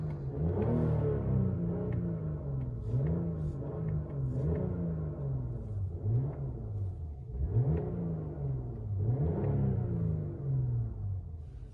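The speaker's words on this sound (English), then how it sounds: "You heard the engine? It sounds real." A 2021 BMW 545e xDrive plug-in hybrid engine runs steadily with a low rumble, rising and falling in repeated revving surges, fairly close and continuous.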